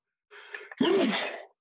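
A single sharp human sneeze, a short breathy intake followed by a loud explosive burst that trails off, close and alone with no talk.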